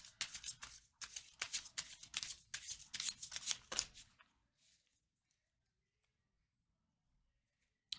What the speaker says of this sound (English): I feel like I'm being careful while shuffling.